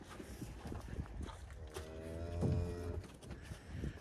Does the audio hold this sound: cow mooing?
yes